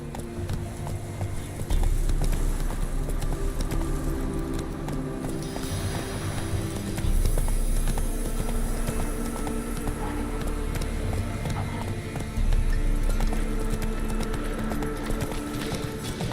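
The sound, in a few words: horse galloping in the video game Witcher 3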